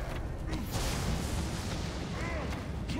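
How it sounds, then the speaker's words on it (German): Weapon fire in the video game Immortals Fenyx Rising, dense booming blasts over a steady loud rumble of game action, continuous through the moment with a voice talking faintly beneath. "Ich schieße jetzt einfach."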